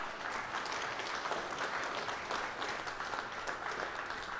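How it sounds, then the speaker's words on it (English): Steady applause from an audience at an armed forces esports championship, dense clapping sustained evenly for several seconds without talk over it. "Clapping for them too."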